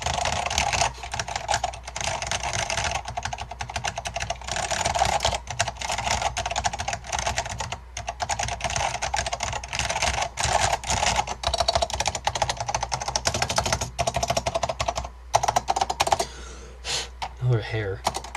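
Fast typing on a restored Focus FK-2001 mechanical keyboard with Alps switches, crisp clacky keystrokes in a quick, uneven rhythm, close up and continuous for the whole stretch.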